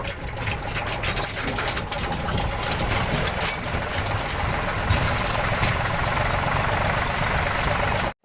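A tractor engine idles close by in a steady, rattling low drone that continues unchanged until cutting off at the very end.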